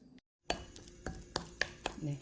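Spoon stirring a Korean all-purpose seasoning sauce of soy, sugar, minced garlic, ginger, mirin, corn syrup and sesame oil in a bowl, giving a run of sharp clinks and taps at an uneven pace, fairly close.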